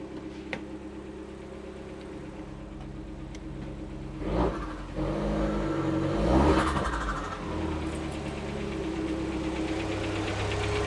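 Alfa Romeo Giulietta widebody engine running at a low idle while being put in gear, a steady close hum that rises briefly twice, with faint clicks and no speech.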